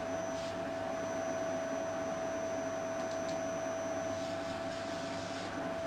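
A vacuum cleaner drones steadily while hoovering a dog, a constant loud whine with a strong fixed tone and airy hiss, unbroken throughout with no voices.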